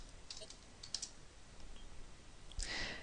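Soft, sparse key clicks from a computer keyboard as router commands are typed, a few light taps close by with a slightly louder cluster near the end, no talking.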